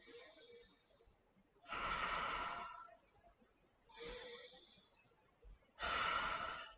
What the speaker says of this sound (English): taking just 3 lovely deep breaths. Just letting the air sigh out.